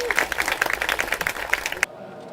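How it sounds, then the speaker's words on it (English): An audience at a San Jose State University Black History Month showcase breaks into dense, close applause lasting nearly two seconds, then cuts off abruptly into near silence. "let's give him a round of applause"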